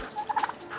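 A farm turkey gobbles in a quick, rattling burst of four or five notes, brief and moderately close.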